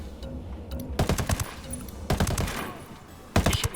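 Rifle fire from a Mark 17 in a video game, arriving in three separate rapid bursts of sharp cracks with short gaps between them, fairly close and with no talk over it.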